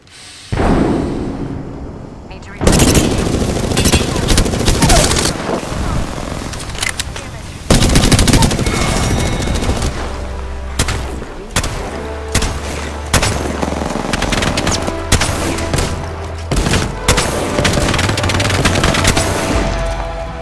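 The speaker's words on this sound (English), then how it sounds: "They spotted me. I'm taking shots." Dense gunfire rattles through a match of Apex Legends on Xbox: loud sustained automatic bursts and sharp single shots with booming impacts, nearly continuous for about twenty seconds.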